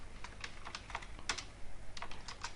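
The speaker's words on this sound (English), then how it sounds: "if I'm typing" Someone types on a computer keyboard, the keystrokes coming as quiet, irregular clicks at close range with no voices.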